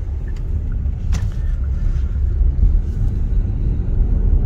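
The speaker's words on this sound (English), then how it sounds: "it's accentuated by this twin turbo V6 that puts out some good power" A Genesis GV80 SUV with a twin-turbo V6 drives on the road, heard from inside as a steady low engine and road rumble with faint clicks, close and continuous.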